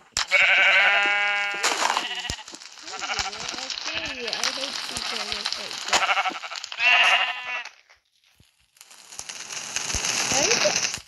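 Sheep in Minecraft bleat several times in wavering, nasal calls, mixed with crackling game sounds and bursts of other noise, with a player talking over parts of it.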